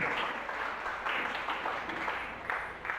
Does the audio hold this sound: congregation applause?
yes